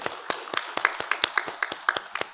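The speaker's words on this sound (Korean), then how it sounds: "우리 박수로 한번 서로 격려하면 좋겠습니다." Sparse, uneven hand claps from a small church congregation at a worship service, a dozen or so distinct claps over a couple of seconds, close and fairly clear.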